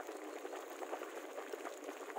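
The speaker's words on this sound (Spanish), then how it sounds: "mira cómo hierve el agua" Hot sulfur spring water bubbling at its source as if boiling, a continuous close fizzing and gurgling bubble texture with no breaks.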